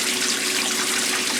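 A 1996 Maytag Dependable Care Plus washing machine rinsing on a permanent press cycle, water running in a steady, loud, continuous rush with no breaks.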